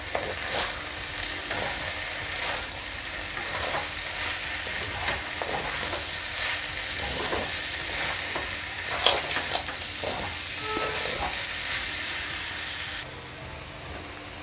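Sabudana khichdi is stirred in a frying pan, with a steady close sizzle and light, repeated scraping strokes throughout, no voices heard.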